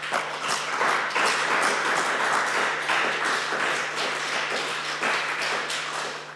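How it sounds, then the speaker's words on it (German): An audience at an election campaign rally claps steadily and densely for the whole stretch, a continuous even wash of applause over a faint low hum, with no voices above it. "Applaus geben"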